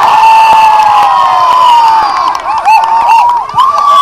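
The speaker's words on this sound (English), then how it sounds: "Boy, did the crowd like that one." A loud football crowd roars and cheers after a penalty kick, a dense, sustained wall of voices with whistle-like shouts rising and falling.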